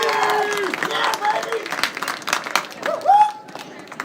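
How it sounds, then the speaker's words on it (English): Applause from a crowd at a high school senior night football game, honoring seniors and their parents: scattered clapping under a loud announcer's voice, with tonal whistle-like sounds and crowd noise around it. "Let's have a nice round of applause for our seniors and their parents"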